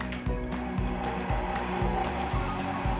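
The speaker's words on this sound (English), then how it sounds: "the KitchenAid is working really, really well to mix this dough together" A KitchenAid stand mixer churns dough with a steady motor whir and a regular thumping beat as the dough turns in the bowl, close and continuous.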